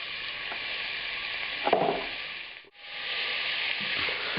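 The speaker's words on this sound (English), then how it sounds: "I'm going to put the ghee in there and begin cooking the beef." Beef frying in ghee in a moderately hot pan, a steady sizzle holding throughout with a brief stir or scrape partway and a short dip before the hiss resumes; no voices.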